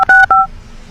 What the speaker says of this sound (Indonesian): Oh, saya telepon ya.